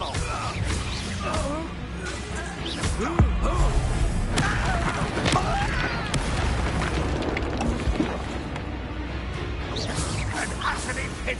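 Spell duel in Hogwarts Legacy on PS5, with booming magical blasts and crashing impacts bursting repeatedly over a dense, continuous battle din, while voices speak between the hits.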